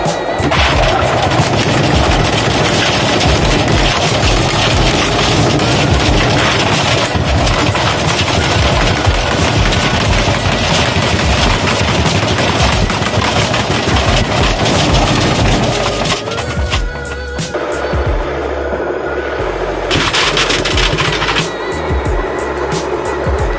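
A washing machine on spin with an angle grinder and other hard objects tumbling inside, a loud continuous rattling, banging and clattering roar that thins briefly near the end before picking up again.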